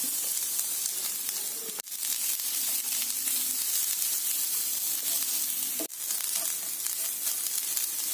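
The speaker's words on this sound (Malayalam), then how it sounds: "തേങ്ങ ഒരു പാനിലേക്ക് ഇട്ട് വറക്കുന്നു" Grated coconut roasts in a pan for a chutney powder, giving a steady close sizzle and hiss with faint stirring scrapes, broken twice by brief pauses.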